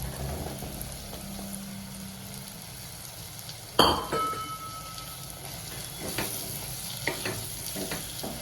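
Sweet corn frying with spices in a pan for a gravy: a steady sizzle broken by a sharp clink and splash as the corn goes in, followed by scattered stirring scrapes.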